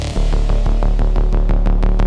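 Aggressive, distorted synth bass plays loud and alone in a steady throbbing groove, with rhythmic pulses repeating about every quarter second.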